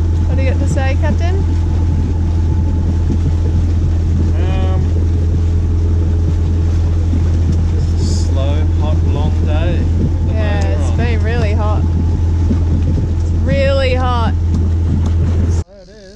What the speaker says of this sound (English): no wind, but we've motored all day